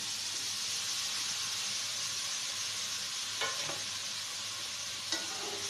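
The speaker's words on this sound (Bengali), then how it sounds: "এখন আমি বেগুনটা কষিয়ে নেব।" Thinly sliced eggplant sizzling and being stirred in a pan of cooked-down spices, a steady, even frying hiss with a few soft scraping clicks from the spatula.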